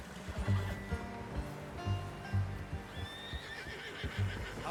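A horse in the Red Dead Redemption 2 game gives faint whinnies over soft hoof clops and low ambient game sound, with no speech.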